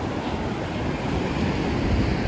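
Sea waves roll in at Velas beach on the Konkan coast in a continuous low roar of surf. The wash is steady and fairly loud, with some wind buffeting and no voices.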